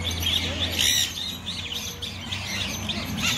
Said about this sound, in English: These right here are called Amazon parrots.